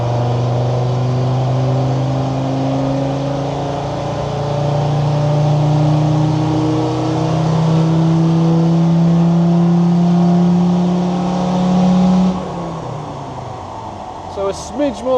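Land Rover Defender Td5 diesel with a stage 2 remap and bypassed snorkel, revving on a dyno: a loud, steady rising engine pull lasting about twelve seconds, then dropping away to idle.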